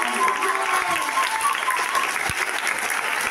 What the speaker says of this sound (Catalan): Ha sigut un aplaudiment ben fort.